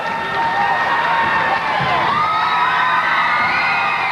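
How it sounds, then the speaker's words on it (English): A wrestling crowd at an NWA Nashville tag team ladder match roars and whoops steadily for the Tennessee Cowboy, James Storm, with cheers and shouts holding up loud throughout. "the crowd here going nuts for the Tennessee Cowboy, James Storm"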